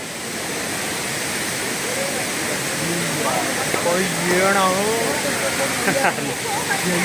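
Constant loud rushing of falling water at Hogenakkal Falls, broad and hissing, with people talking over it toward the end.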